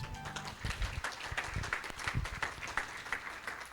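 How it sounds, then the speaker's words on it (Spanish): Church congregation applauding after a prayer, moderately quiet clapping with a few low thumps and taps mixed in, steady throughout the short stretch. "Aplauso a nuestro Dios."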